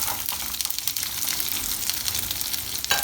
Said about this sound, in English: We're just going to saute them really fast